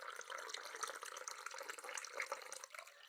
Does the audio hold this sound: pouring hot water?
yes